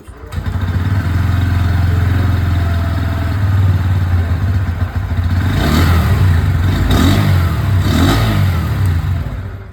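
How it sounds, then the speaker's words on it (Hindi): A 2024 Bajaj Pulsar N125 motorcycle with an underbelly exhaust idling loud and close, then revved three times in short bursts that rise and fall, with no talk over the engine. "तो जो आवाज़ है वो सबसे पहले मैं आप लोगों को सुना दूँ और स्टार्ट करते हैं विद N125।"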